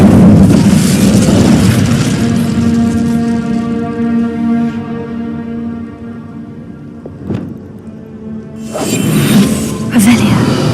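An Incendio fire spell is cast in the Hogwarts Legacy video game, giving a loud, rumbling burst of flame at the start and a second crackling surge near the end, with a voice talking throughout.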